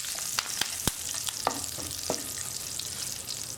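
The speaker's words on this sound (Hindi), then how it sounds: "जैसे ही तेल गर्म हो जाएगा हम इसमें 1/4 टीस्पून हींग पाउडर, जीरा, कड़ी पत्ता डाल लेंगे" Asafoetida, cumin seeds and curry leaves crackle in hot oil for a Maharashtrian amti, giving a steady close sizzle broken by sharp pops and a few spoon scrapes, with no voices.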